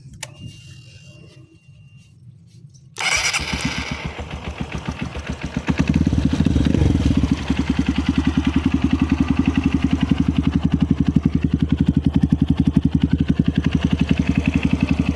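A motorcycle engine with newly replaced valve guides cranks and fires after a quiet start, then settles into a steady, close idle with a rapid, even pulsing beat.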